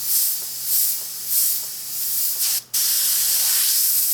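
An airbrush sprays paint onto a shirt in a steady close, bright hiss, swelling in gentle pulses as strokes are made, briefly cutting off near the end before resuming.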